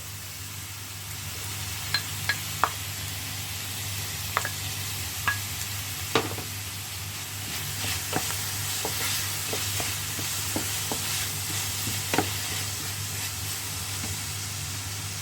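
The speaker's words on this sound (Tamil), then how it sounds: "இப்போ நான் இதோட நான் ஃப்ரீஸ் பண்ணி வச்சுருந்த மஷ்ரூம் துண்டுகள், அதாவது காளான் துண்டுகள் சேர்க்கிறேன்" Frozen mushroom pieces frying in a hot pan for a cheesy tortelloni sauce, giving a steady low sizzle with scattered sharp pops and stirring clicks throughout, close and moderately quiet, with no talking.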